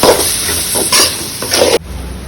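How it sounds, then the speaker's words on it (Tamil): Spices and mint sautéing in a hot pan for spicy mint beef, loud close sizzling with repeated scraping stirs that stop abruptly near the end, leaving quieter frying behind. "நம்ம இப்போ மசாலா புதினாலாம் போட்டு நல்லா வதங்கிடுச்சு"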